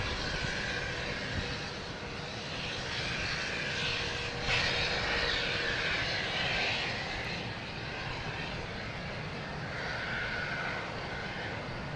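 Fixed-wing aircraft engine roaring overhead at Logan Airport, a steady loud broadband rumble that swells slightly midway and holds throughout with no talk.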